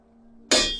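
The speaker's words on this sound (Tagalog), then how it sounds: "Parang may mabigat na bagay na bumagsak sa may bubungan." A heavy object lands on a roof with a sudden loud crash of thumping impact, broad and bright, after near-silence, then a short decaying rumble.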